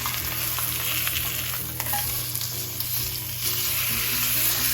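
Grass-fed Wisconsin beef shank sears in a hot pan on high burners, a steady, loud sizzle and crackle of frying fat running continuously throughout with no talking.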